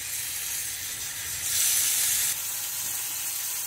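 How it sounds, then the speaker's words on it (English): Blackened tilapia frying in butter in a pan, giving a steady, even sizzle and hiss throughout that swells slightly for a moment and then settles back. "Got some butter in the pan. Got some tilapia on the plate. I put some blackening on it."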